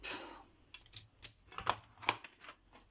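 Scissors snipping paper while making a Christmas basket greeting card, a handful of short crisp cuts in quick succession after a brief rustle, close and fairly quiet.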